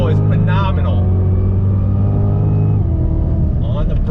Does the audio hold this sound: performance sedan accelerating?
yes